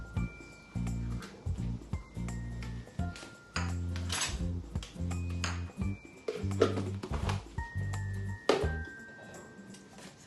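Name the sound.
stirring food in a pot while cooking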